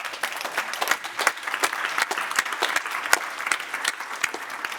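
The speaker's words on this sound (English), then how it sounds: "Please join me in a round of applause." Audience applause for a defence panel at the close of a session, a steady crowd of clapping hands with distinct individual claps standing out, moderately loud.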